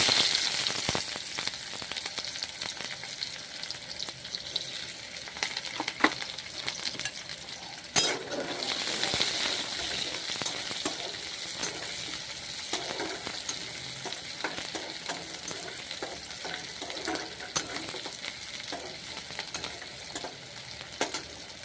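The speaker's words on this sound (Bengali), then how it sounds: "এবার আমি পেঁয়াজগুলো একটু ভেজে নেবো" Onions fry in half a spoon of oil with cumin seeds and two bay leaves, giving a continuous crackling sizzle and intermittent spoon scrapes across the pan.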